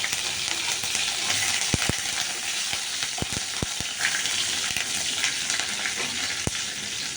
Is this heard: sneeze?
no